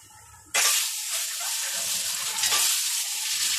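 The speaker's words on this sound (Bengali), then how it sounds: "প্রথমে আমি তেলের মধ্যে হলুদ দেব ডিমগুলো ভাজার জন্য।" Eggs frying in turmeric-spiced oil in a kadai, a loud sudden sizzle that bursts in as they hit the hot oil and keeps crackling steadily up close.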